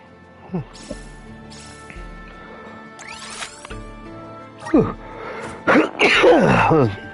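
A video game character sneezes in Visions of Mana, a sharp burst near the start, followed by more character voices and game sounds.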